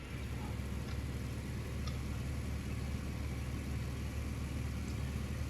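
A tractor engine in the Farming Simulator 15 video game idles with a steady low hum and faint ticking, holding an even level throughout with no speech over it.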